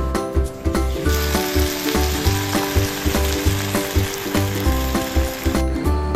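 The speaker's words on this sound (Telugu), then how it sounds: "chop చేసి పెట్టుకున్న 4 onions వేసి వేపాలి" Four chopped onions fry in hot oil for gongura chicken, a loud continuous sizzle with a steady rhythmic mechanical thumping beneath it, close and without voices.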